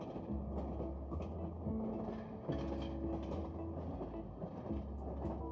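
A train rolls steadily in the video game 3 Minutes to Midnight, a comedy graphic adventure, producing a continuous low rumble with rhythmic clattering that persists throughout without pause.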